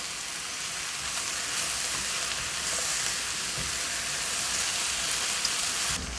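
Mushrooms and onions sautéing over medium heat in a pan, a steady close hiss and crackle of frying that holds evenly throughout with no talk.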